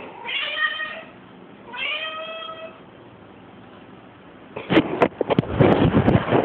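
A house cat meowing twice, two drawn-out, wavering meows close to the microphone, followed by a burst of rustling and clattering handling noise.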